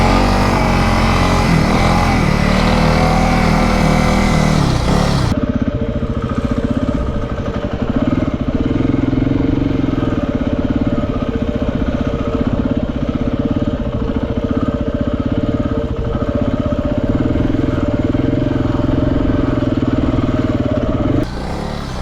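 A motorbike rides through deep beach sand at Rainbow Beach, its engine droning loud and close without a break, with steady revving and strain as the wheels churn.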